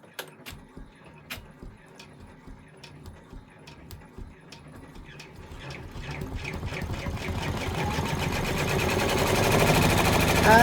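A 10-needle embroidery machine stitches out a freestanding lace piece, its rapid needle clatter starting faint among scattered clicks and gradually building into a loud, steady mechanical whir.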